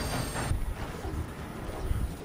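A train rumbles past in a video game, a heavy rolling clatter with rhythmic thumps and a brief high squeal at the start, close and fairly loud.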